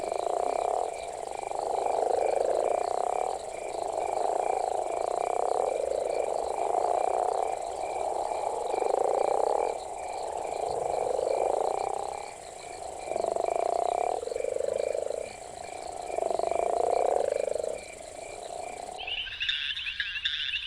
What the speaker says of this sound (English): frogs vocalize to call for mates